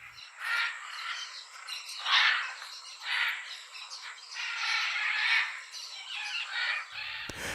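Birds squawking in the Amazon rainforest, probably red-and-blue plumaged parrots: repeated loud harsh calls in bursts through the whole stretch, with chirps in between over a steady insect-like hiss.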